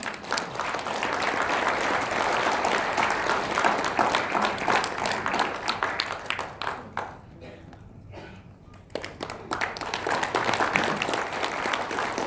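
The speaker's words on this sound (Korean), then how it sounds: "박수 부탁드립니다." An audience at a lecture event applauds steadily for several seconds as a speaker is introduced, the clapping briefly thinning out before swelling again into full applause.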